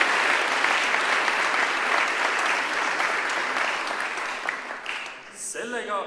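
Sustained applause from an audience at a university anniversary academic ceremony, steady and dense for several seconds, then fading near the end as clapping dies out.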